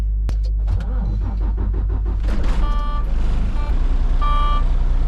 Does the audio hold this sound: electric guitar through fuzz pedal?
no